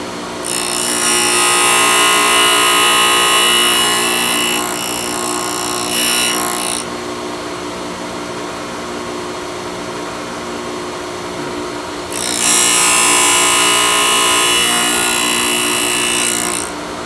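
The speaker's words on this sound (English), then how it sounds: "so there you go, the drill bit sharpener" Harsh, high-pitched grinding comes in two long passes, with a quieter whirring motor hum running steadily between them.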